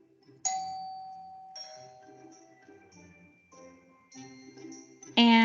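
A doorbell chimes with bright ringing tones that decay slowly, struck several times in succession, clear and close with nothing else around it.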